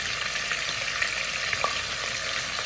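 Diced tomatoes hit a pan of frying egusi stew, giving a steady, close sizzle with a dense hiss throughout and a few faint pops and stirring clinks.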